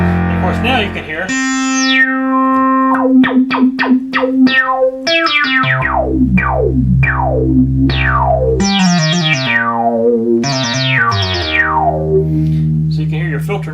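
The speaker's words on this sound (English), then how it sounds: "So you can hear your filter now work." A restored Moog Multimoog synthesizer plays loud sustained bass notes while its filter sweeps up and down, giving bright, resonant, wah-like glides over a steady low tone, with no talking.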